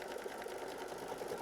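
A sewing machine runs steadily while stitching a quilt block, a close, continuous mechanical whir with a rapid needle rhythm and no pauses across the short stretch.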